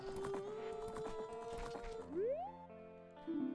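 Epona the horse in Ocarina of Time gives a whinny over clip-clopping hooves, followed by short game chime tones, all fairly quiet.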